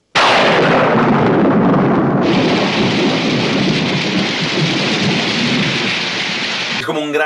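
A heavy rainstorm with thunder from a comedy film scene, loud and dense with a constant roar of rain and rumbling thunder mixed in, cutting off suddenly near the end.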